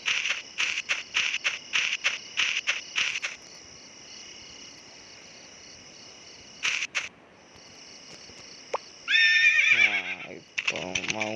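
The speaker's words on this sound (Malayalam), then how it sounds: "നമ്മൾ കുതിര മൗണ്ട് ആയിട്ടുണ്ട്." A horse whinnies in the video game Palworld, a bright wavering neigh near the end that follows rapid rhythmic clicks and a steady game hum, with no talk over it.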